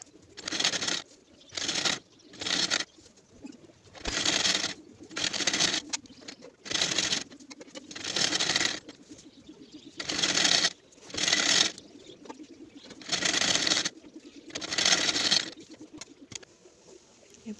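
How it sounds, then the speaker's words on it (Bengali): A home sewing machine stitches one edge of a saree fall in place of a picot machine, running in repeated bursts of a second or so separated by brief pauses, close and steady, with no talk. "আমার পিকো মেশিন নেই, তো মেশিনেই পিকো করে নিচ্ছি,"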